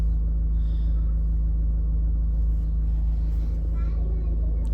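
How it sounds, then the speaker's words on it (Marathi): Car being driven out of a parking lot, a constant low engine rumble with a steady hum from inside the cabin, while faint voices murmur in the background. "जेव्हा मी पार्किंग मधून गाडी काढतो"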